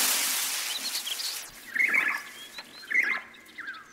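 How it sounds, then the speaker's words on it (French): A scarlet bird in an animated jungle story gives short, bright chirping calls in two clusters after a noisy, hissing opening, fairly close and clear with no talk over them. "Écoute, l'oiseau écarlate."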